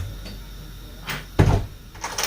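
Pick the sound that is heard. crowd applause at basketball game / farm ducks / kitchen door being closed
kitchen door being closed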